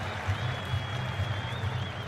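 Spectators at a cricket one-day international between England and Pakistan applaud in a dense, steady wash of clapping that holds evenly throughout at moderate distance.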